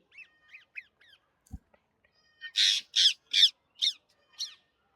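Five loud, harsh macaw squawks in a steady series, preceded by softer chirping calls from smaller birds and a brief thump, with no talking, at a nature park zoo in Surat.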